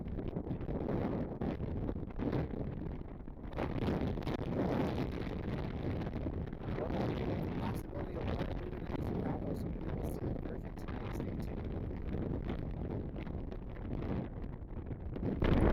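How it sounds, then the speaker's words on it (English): Steady wind buffeting the microphone outdoors at Cleveland Hopkins International Airport, a continuous low rumble and rush lasting throughout with little variation. "a little on the windy side again"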